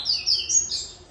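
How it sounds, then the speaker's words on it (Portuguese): A coleiro, the double-collared seedeater, gives a short burst of high, bright chirps in quick succession, close and clear against a quiet background. "meu coleiro tá cantando pouco no manejo do parceiro."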